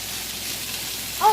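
Shrimp fried rice sizzles steadily in a hot pan as it is stirred, an even hiss with a brief clink of a utensil near the end.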